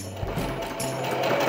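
A sewing machine runs steadily as it stitches fabric with the layers held together, a close, continuous whir with no voices over it.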